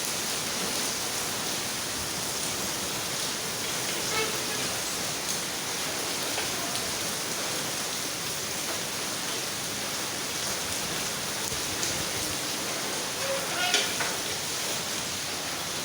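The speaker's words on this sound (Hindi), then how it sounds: "तो देखिए बारिश कितनी तेज़ हो रही है अब, और बढ़ती जा रही बिल्कुल।" Heavy rain falling steadily and growing stronger after a hailstorm, a dense even hiss close by with faint scattered patters, no talk.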